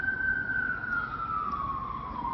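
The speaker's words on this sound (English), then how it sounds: "Siren" Siren of an emergency vehicle wailing in a slow, steady falling tone, continuous and fairly close over a dense background rumble, with no voices.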